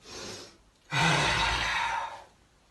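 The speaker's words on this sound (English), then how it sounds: "Inhale." A deep, audible inhale during a kriya breathing practice, lasting over a second after a brief softer breath, close and clear with no talking.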